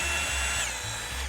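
A power drill bores holes through a wall for an ice maker water line, a loud continuous close whine that wavers slightly in pitch throughout the short burst.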